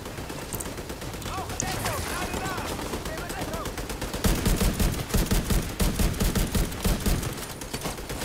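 Rapid automatic gunfire and bursts of shots ring out in a firefight in The Division 2, growing louder and denser midway, with game sounds and voices mixed underneath.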